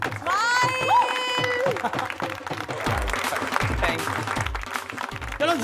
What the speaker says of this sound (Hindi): चलो जोरदार तालियां